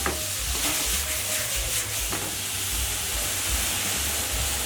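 Garlic sizzles loudly in a hot wok alongside prawns for special fried rice, a dense, close frying hiss broken by a few stirring clacks.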